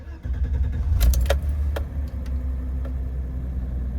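A 1988 BMW 528e with a check engine light fault is started: keys jangle and click, then the engine catches and settles into a steady, close idle with no talking.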